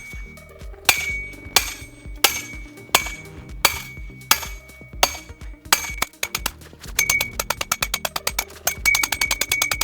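A Makita 80V cordless hammer, model HM002G, drives a stake into sandy ground with heavy metallic blows that ring out, first spaced about once per second, then speeding into a rapid, rattling burst. It is close and loud, and no one talks.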